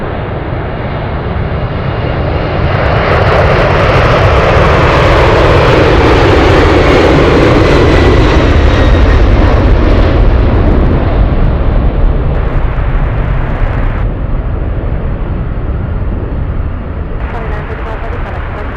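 A Cargolux cargo plane taxies at Anchorage airport, its loud, steady jet engine roar swelling and then easing slightly as it passes near, with a voice talking over it.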